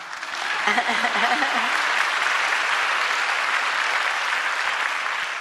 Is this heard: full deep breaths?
no